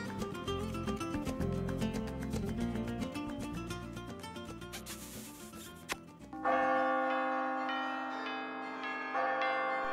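Church bells peal in an animated film score, a dense, continuous ringing layered with orchestral music that swells louder in the second half, with no speech over it.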